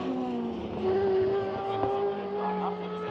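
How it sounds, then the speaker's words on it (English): Historic DTM race cars, including Mercedes, lap a track during practice with loud, steady engine drone, pitch shifting as they pass by and decelerate. "the historic cars, the old DTM cars, are doing some practice laps before their race, and it is so loud"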